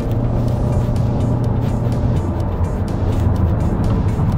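Haval H6 Hybrid accelerating hard with a bit of wheel spin and traction control working: a steady, dense cabin drone and road roar that holds at constant loudness throughout, with no speech.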